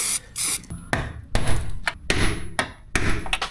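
Repeated hard thumps and knocks come from striking a stuck 20-year-old part on a Land Rover Series being restored, irregular close metallic blows with scraping and rattling between them.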